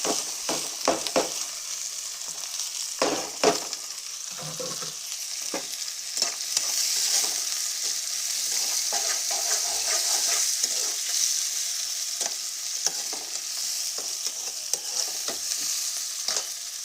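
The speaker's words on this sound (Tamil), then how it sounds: "இப்போ நம்ம ரெடி பண்ணி வச்சிருக்கிறேன் இந்த வெஜிடபிள்ஸ் எல்லாம் கொட்டுறோம்" Vegetables frying in hot oil and being stirred for wheat rava upma, a continuous sizzle with repeated scraping and clacking of a spatula against the pan, close and fairly loud.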